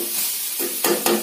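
Tempering sizzling in a pan while cooking taklyachi bhaji, a monsoon wild-greens dish: a steady crackling hiss with two short louder bursts near the end, alone and close.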